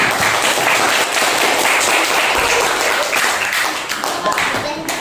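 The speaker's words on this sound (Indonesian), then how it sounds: "Beri tepuk tangan untuk kalian semua." Students in a classroom clap together for the whole class, a dense, loud and continuous round of applause that carries on for several seconds and thins slightly toward the end.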